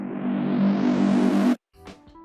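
A gritty, heavily processed Racy Bass synth patch in FL Studio plays a loud sustained buzzing note for about a second and a half, cuts off abruptly, then a brief quieter synth tone follows.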